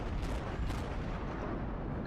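A warship's broadside of heavy naval guns in World of Warships, a dense continuous roar of booming artillery with two louder blasts near the start, filling the whole span without speech.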